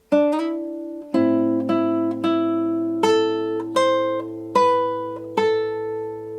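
A guitar plays a measure of a song in plucked chords and single notes, each attack ringing out and decaying, in an unhurried rhythm with no voices.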